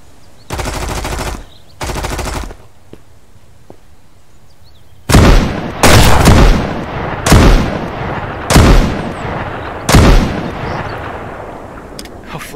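Gunfire in the survival video game Mist Survival, loud automatic bursts: two short ones, a pause with faint distant shots, then a run of six heavy bursts in quick succession.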